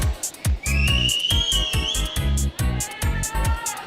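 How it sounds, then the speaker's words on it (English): At a roller derby bout between Crime City Rollers and Paris, a referee's whistle sounds one sustained shrill blast to open the jam, over a steady thumping rhythmic background. "We are almost ready for the first whistle."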